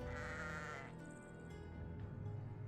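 Sheep bleats from the Caverna digital board game, a few short wavering calls rising and falling in quick succession, clear and close over soft game music.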